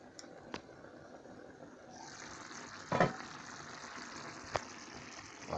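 Rice cooking in a pot is stirred, with a soft sizzle and bubbling under a few sharp clinks and scrapes of the spoon against the pot, faint and close.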